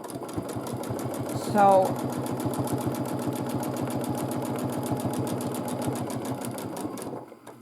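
A domestic sewing machine quilts a large quilt with a rapid, even stitching rattle that runs for about seven seconds before stopping, with a voice speaking briefly near the start.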